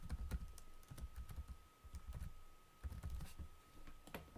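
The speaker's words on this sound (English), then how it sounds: "I will type saturation or actuator saturation." Rapid, fairly quiet keystrokes clatter on a computer keyboard as a block name is typed into a text box in Simulink, in uneven bursts of clicks with no talking.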